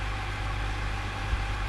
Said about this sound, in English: I hear the 56 and it sounds like a HST